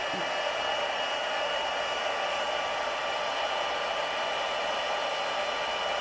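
A heat embossing tool blows a loud, steady hot-air whir while melting silver embossing powder on a handmade card, the drone continuous and close with no pause.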